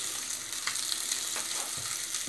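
Food fries steadily in oil for kheema egg biryani, a continuous close crackling sizzle with a bright hiss and occasional soft stirring scrapes.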